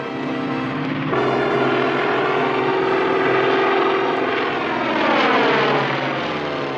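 An animated airplane's propeller engine revs up for takeoff, a loud sustained droning roar with a steady pitch that swells and shifts slightly as it gathers speed, continuous throughout with no talking.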